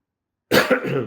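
A single sharp cough from a speaker with the flu bursts out after a moment of silence, close and fairly loud, trailing off quickly.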